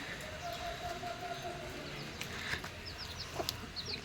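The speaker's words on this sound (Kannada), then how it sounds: "ಕೋಳಿನೂ ಪುಟ್ ಪುಟ್ ಮರಿನೂ ಸಾಕಿದ್ದಾರೆ ತೋರಿಸ್ತೀನಿ" Soft, distant hen clucks mix with scattered high-pitched peeping of chicks in a quiet outdoor setting.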